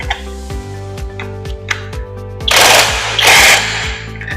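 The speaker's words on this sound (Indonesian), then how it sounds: "Kalau punya impact bisa menggunakan impact." An impact wrench works on automatic transmission parts, hammering in a fast steady rhythm over a low motor hum, then two loud bursts of hissing rattle near the end.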